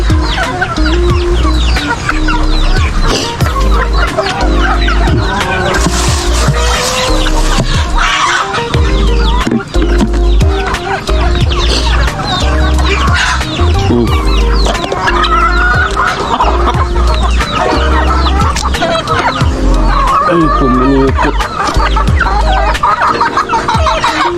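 Chickens clucking steadily and close by on a farm during rainy weather, dense overlapping calls from a flock with an occasional rooster crow, continuous and loud with no talking.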